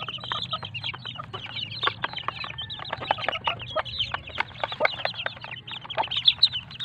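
Backyard chicks about two weeks old cluck and peep continuously, a dense run of short overlapping calls at close range with no talk over them.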